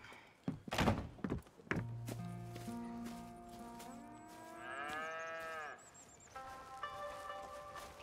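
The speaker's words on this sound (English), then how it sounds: "I was going to milk the cows." Cattle low at the Pronghorn Ranch in Red Dead Redemption 2, one long, drawn-out moo that rises and bends in pitch, then a second shorter call, after heavy thunks and hoof-like knocks, with voices nearby.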